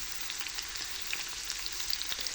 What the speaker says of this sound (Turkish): orta büyüklükte doğradığım biberlerimi orta ateşte kavurmaya başlıyorum.